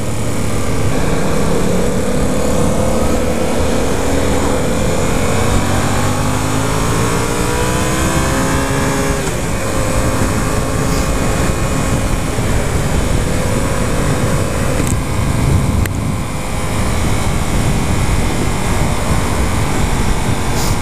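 Engine of a 2015 Yamaha FZ-07 motorcycle ridden in second gear, a steady loud drone with rising and falling revs, close and continuous with heavy wind rush throughout.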